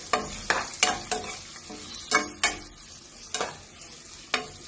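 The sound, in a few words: onion frying in a pan for chicken stew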